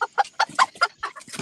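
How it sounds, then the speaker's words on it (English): Several backyard chickens clucking in quick, uneven bursts, close and fairly loud, with no talk over them. "I hear some chickens."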